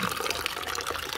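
Water pours in a continuous, close splashing trickle for a moment, with no voices over it.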